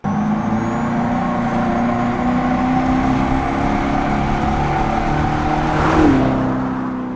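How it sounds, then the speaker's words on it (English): A Dodge Charger Daytona electric car's simulated V8 exhaust note from a chambered exhaust system: a steady, loud engine-like drone holds for several seconds, then swells briefly in a rising rev before easing back, with no talking. "the result is a chambered exhaust system for an electric vehicle"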